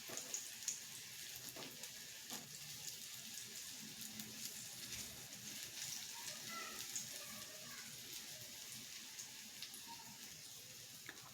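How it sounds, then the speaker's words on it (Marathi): Paneer cubes frying in a pan make a faint, steady sizzle with light crackling pops that carry on evenly throughout. "आपल्याला चारही बाजूने पनीर भाजून घ्यायचे"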